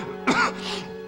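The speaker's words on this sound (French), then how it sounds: "Dès que je m'énerve, je me mets à tousser." One short, raspy throat-clearing cough rings out close by, trailing into a breathy exhale over a quiet background hum.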